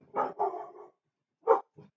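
Dogs bark in two short bursts, a quick pair of barks, a pause, then another bark and a small yip, fairly close, with no talk over them.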